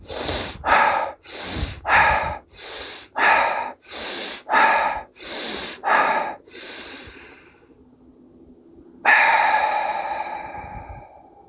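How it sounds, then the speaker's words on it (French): Rapid conscious breathwork: about nine quick, forceful nasal breaths in a steady pumping rhythm, close and loud, then a pause and one long, drawn-out rushing breath. "Cette respiration peut être accélérée comme ça."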